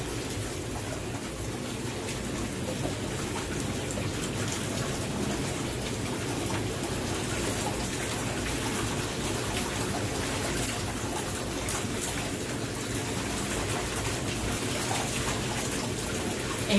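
Continuous bubbling and gushing water churns steadily at moderate loudness as bathtub jets agitate a filled tub with Cascade detergent to clean them, with no voices.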